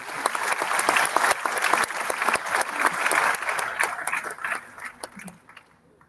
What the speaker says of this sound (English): Let's give a big applause to Gwen.